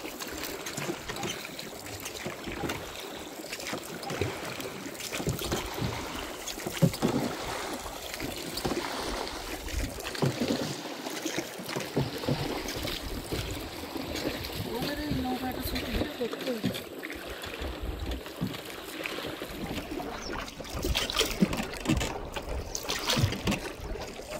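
Several people paddle a wooden boat quickly across tidal water in the Marichjhapi mangrove forest, with steady oar splashes and trickling water under a wide wash of ambient noise, voices murmuring at times.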